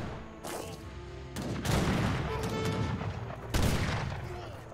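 Rapid gunfire crackles through an Age of Empires III battle, with bursts of musket volleys and clashing noise rising in dense waves across the skirmish, fairly loud and continuous.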